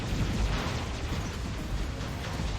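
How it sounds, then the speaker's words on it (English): Boom cannon weapon firing in the War Robots mech game, heavy blasts rumbling densely together into a loud, continuous booming barrage with no voices. "I'm blocking damage and boom cannon, boom cannon, boom cannon."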